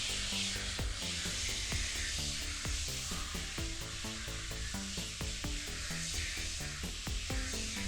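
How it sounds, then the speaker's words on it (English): Steady continuous hiss of cleaner being sprayed to soak a canvas soft top, broad and close, running the whole time beneath a faint patterned musical background. "now it's just to spray it down and make sure to"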